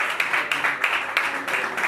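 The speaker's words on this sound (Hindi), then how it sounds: "जोरदार तालियां" An audience at a Sunday church service applauds a presentation, its clapping loud and close and swelling in rhythmic waves for a couple of seconds.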